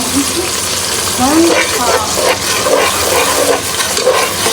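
Onion browning in hot oil with spices, a loud, steady close-up sizzle and crackle with occasional stirring.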